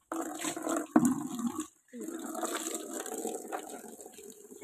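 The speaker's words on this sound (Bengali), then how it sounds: "এই যে জল পড়েই যাচ্ছে।" Water pours and splashes steadily in a home, breaking off briefly midway with a clunk before running again.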